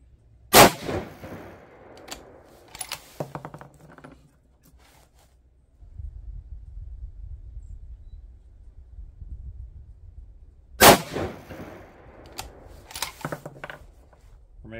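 Two sharp, loud 6.5 PRC rifle shots fired at a target, each a hard crack followed by a short rumbling tail, spaced about ten seconds apart, with quieter handling noise in between and low wind rumble.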